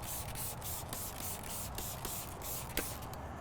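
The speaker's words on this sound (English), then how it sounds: "mix 2 to 3 ounces to a bottle, mist it on the surface." A spray bottle mists diluted multi-purpose cleaner onto a wheel surface during tire cleaning, giving repeated short, soft spritzes in a steady rhythm, close and moderately loud over a hissy background.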